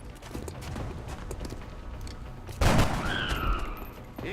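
Gunfire in the video game XCOM: Long War, with a busy clatter of rapid shots and a sharp, loud burst partway through. A ringing tone follows the burst.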